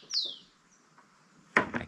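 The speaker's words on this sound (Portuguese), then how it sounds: "Aqui tem uns passarinhos que canta bonito." Small birds sing outdoors at a rural campsite under construction, with a bright descending chirp near the start, a faint call midway, and a louder burst of chirps near the end.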